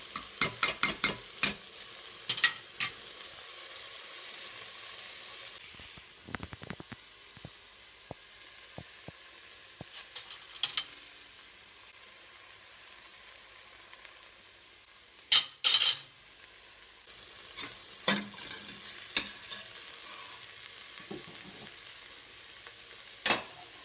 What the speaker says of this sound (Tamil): 3/4 ஸ்பூன் டொமேட்டோ சாஸ் இதெல்லாம் போட்டு நல்லா மிக்ஸ் பண்ணுங்கள்